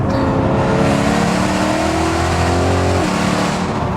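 A BMW E92 M3 with a custom exhaust revs hard and loud, climbing steadily in pitch, then drops sharply as a gear shift cuts in at 5,000 RPM and the revs resume.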